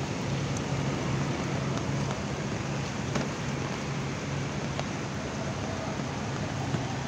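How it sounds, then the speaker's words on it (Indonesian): Steady rain falls at the Purabaya bus terminal in Surabaya on New Year, a dense continuous hiss with a low rumble beneath and a few faint ticks, with no talking. "karena hujan ini sudah sejak tadi ya"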